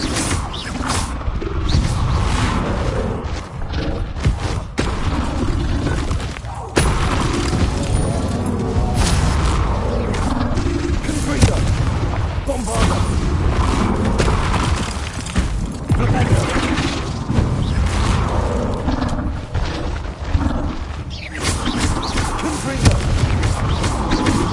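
Confringo spell explosions in the Hogwarts Legacy video game, repeated loud booms and crashes with whooshes amid dense combat noise, several sharp blasts spread throughout.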